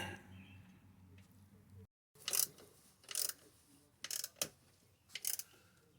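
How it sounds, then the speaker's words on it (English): Ratcheting wrench tightening 13 mm bolts on a 1985 Mercedes 300SD: several short bursts of close clicking with pauses in between, after a quieter stretch and a brief dropout. "so the two 13 millimeter bolts, we're just going to snug them gently"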